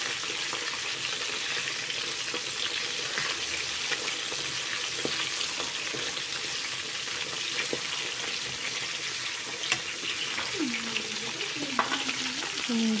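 Chicken legs frying in a pan, a constant dense sizzle and crackle with occasional pops and faint clinks, steady and close throughout.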